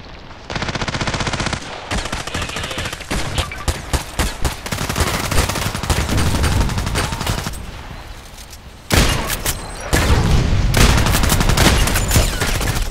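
Rapid, loud gunfire in the online shooter Contract Wars, with repeated blasts in bursts and short pauses, close and dense, reverberating without any voices.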